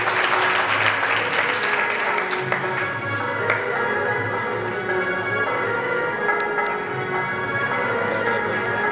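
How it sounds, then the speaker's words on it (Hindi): Audience claps to welcome guests at a convocation ceremony. The applause is fullest at the start, then thins and fades under a lingering steady tonal hum. "इसलिए आप सभी उनका तालियों से स्वागत करें"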